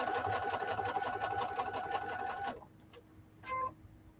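Sewing machine stitching quilt fabric along a marked line, a fast continuous mechanical whir for a couple of seconds that stops abruptly, followed by quiet room sound and a short faint noise.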